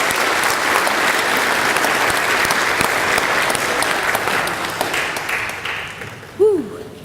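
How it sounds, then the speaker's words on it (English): Sustained audience applause at a spring honors convocation, a dense wash of many hands clapping loudly and steadily for several seconds before tapering off, with a brief voice at the end. "Can we get another round of applause?"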